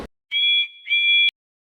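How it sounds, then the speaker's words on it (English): Percy the steam engine's new whistle, two loud, clear, high-pitched blasts close by, the first short and the second slightly longer, with silence around them. "He whistled hello to Harry and Bert."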